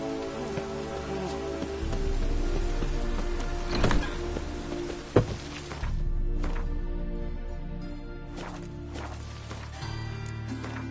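Rain patters steadily on surfaces in The Witcher 3: Wild Hunt, a soft, continuous hiss with a few louder knocks, thinning toward the end.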